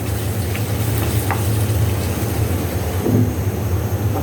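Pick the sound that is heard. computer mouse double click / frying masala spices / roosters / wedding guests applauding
frying masala spices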